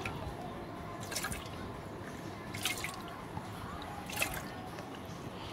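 Water drips back into a pot from a kitchen ladle while sago vadam batter is prepared, three soft splashing drips standing out over a quiet, steady background hiss.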